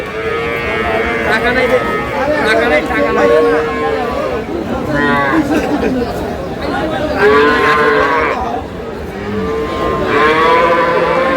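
At the Aftabganj cattle market in Dinajpur, improved-breed dairy cows and calves moo loudly and repeatedly, with long, drawn-out calls overlapping a constant crowd chatter and voices.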